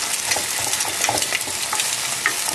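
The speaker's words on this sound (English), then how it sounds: "Alright, the eggs are in. I'll just stir them a bit." Eggs sizzle steadily in a hot pan while being stirred, a continuous close frying hiss with soft scraping strokes throughout, no voices.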